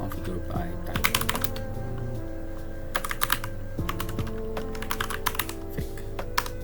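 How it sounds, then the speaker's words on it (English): Someone types on a computer keyboard in quick clustered bursts of clicking keystrokes with short pauses between runs, close by over a steady low hum, no talking. "open the SSH configure by typing"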